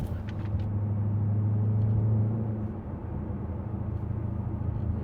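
A supercharged 2020 Ford Mustang GT 5.0 drives along with a low, steady engine drone and road rumble. The tone holds firm, then eases to a softer cruise partway through, with no speech.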